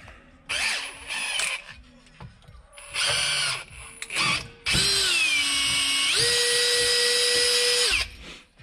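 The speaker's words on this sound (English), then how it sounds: "we need to drill the hole for this side" A power drill with a 4.5 mm bit whirs in several short bursts, then runs in a long continuous whine that shifts pitch partway through, close and loud.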